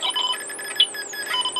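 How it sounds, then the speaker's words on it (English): A faulty alarm IC from an Elenco Snap Circuits kit sounds as a thin, warbling electronic tone with uneven pulses and a brief sharp blip midway, moderately loud and alone. "that's the faulty part of this alarm IC."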